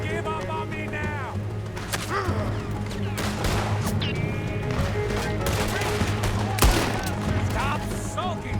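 Gunfire crackles almost without pause through a Wild West shootout in Red Dead Redemption 2, sharp shots and rattling bursts thick and loud over a steady roar, with brief shouted voices.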